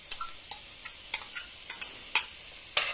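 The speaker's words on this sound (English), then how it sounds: "So I'm going to now add the onions." Onions going into hot oil for a dal tarka, a faint background sizzle broken by sharp spoon clicks and taps against the pan roughly every half second, no voices.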